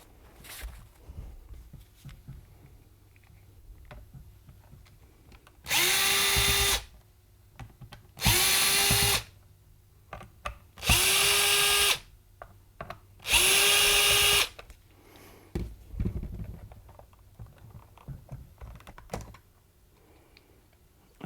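Four separate bursts of a power screwdriver whirring as it backs out screws from an Amprobe AM-140-A digital multimeter case, each about a second long, with quiet handling clicks and taps in between.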